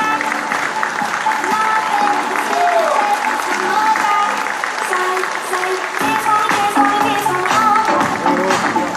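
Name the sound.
audience applause at wedding fair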